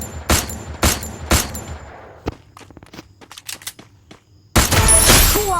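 Gunfire in the Free Fire video game: three sharp shots, a lone shot, a patter of lighter clicks or footsteps, then a loud dense burst of firing to finish.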